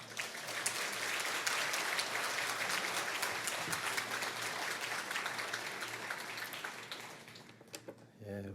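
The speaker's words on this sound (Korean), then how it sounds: "박성원 목사님 나오실 때 큰 박수로 환영해 주시기 바랍니다." A church congregation gives loud, sustained applause to welcome Pastor Park Sung-won to the pulpit for the final revival meeting; the clapping stays dense for several seconds, then thins out and fades near the end.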